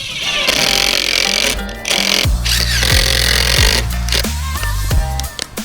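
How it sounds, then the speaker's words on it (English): A power drill drives screws up from underneath into a reptile basking platform, loud and close, with repeated whining bursts that rise and cut off as each screw seats. "So screw that up from underneath, put a few screws in each side,"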